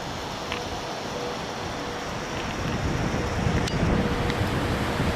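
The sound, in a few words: wind gusting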